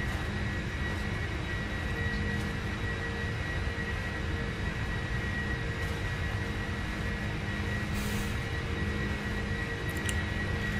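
Jet engines of a KLM Boeing 747-400 roaring steadily through a heavy takeoff roll from Amsterdam in the Prepar3D flight simulator, a constant loud rumble with high whine.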